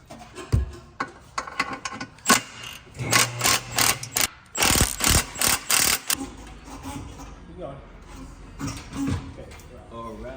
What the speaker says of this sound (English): We must unbolt our old exhaust system.